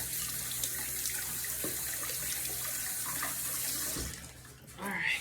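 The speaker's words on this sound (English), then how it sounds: "I'm going to wash this lemon off." Tap water runs steadily from a kitchen faucet as a lemon is rinsed under it, a continuous close splashing stream that stops near the end with a brief clatter.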